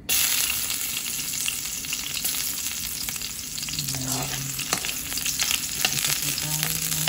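Garlic sautéing in a small pan, a steady crackling sizzle of frying oil with occasional stirring clinks, heard close and alone without talking.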